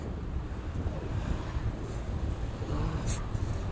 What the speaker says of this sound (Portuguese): Caralho, tá vento, hein